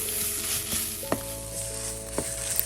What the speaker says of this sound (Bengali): আরও একবার ভালো করে সব কিছু নাড়াচাড়া করে নিচ্ছি